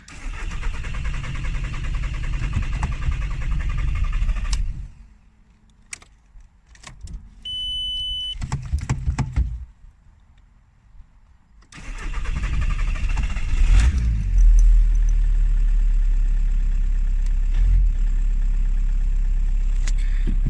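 A VW Golf 4 1.9 TDI turbo diesel, a car that is always hard to start, cranks and runs. A steady rough engine note gives way to a short quiet pause with a clicking start, then the engine settles into a loud, steady idle.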